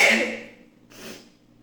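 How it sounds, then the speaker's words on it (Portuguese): A single sharp nasal burst at the start, fading out, then a softer breathy exhale a moment later, close and fairly loud with no talking. "Vou dar um espirro."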